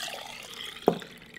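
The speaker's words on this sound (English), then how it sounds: "Now we just transfer it into another beaker." Isopropanol plant extract is poured from one beaker into another glass beaker, giving a soft liquid trickle with one brief, sharper splash partway through. The sound is short and close by.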